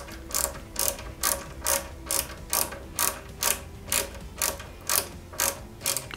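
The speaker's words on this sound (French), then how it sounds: "on va fixer le tout avec deux vis QM de chaque côté. Donc on maintient tout ça et on visse proprement." Screws being driven by hand into the speaker support of a Ghostbusters Ecto-1 die-cast model car kit, a steady run of about fourteen sharp ratcheting clicks at an even rhythm, close up with no talking.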